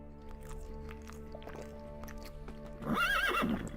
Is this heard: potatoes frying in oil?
no